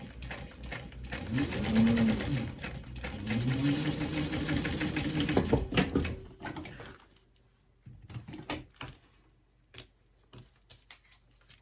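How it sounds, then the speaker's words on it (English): Sewing machine top stitching a vinyl lanyard, a fast rhythmic mechanical whir for several seconds that stops, followed by quieter scattered clicks and handling sounds. "I'll fold that down and top stitch."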